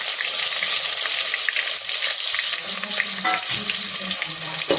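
Bay leaf and onion hitting hot oil in a pot for mushroom pulao, giving a loud, steady, close sizzle and crackle that runs throughout with brief stirring scrapes and no voices.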